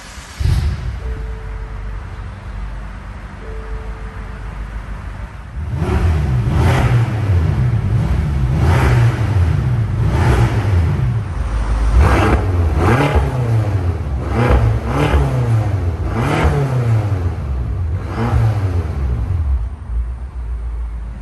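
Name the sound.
BMW F10 M5 Competition engine starting and revving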